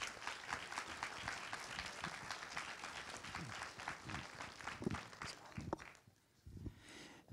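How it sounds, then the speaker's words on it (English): Warm applause from an evening audience greeting Paul Glantz: dense, fairly quiet clapping that holds steady for several seconds, then thins and fades out, leaving a few scattered claps and shuffles near the end. "a warm round of applause for Mr."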